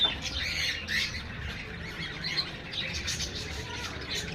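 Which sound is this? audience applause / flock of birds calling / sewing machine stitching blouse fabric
flock of birds calling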